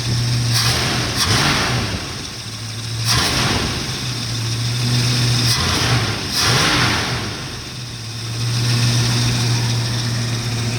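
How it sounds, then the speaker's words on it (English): A 1969 Ford Mustang engine idles with the choke slowly coming off, a loud, close, steady low rumble that swells and eases in slow waves, with no talking over it. "Choke's coming off slowly. So we're idling. Right now we're idling at about 650 RPMs"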